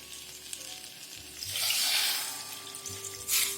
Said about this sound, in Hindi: अब हम इसमें डालते हैं पानी।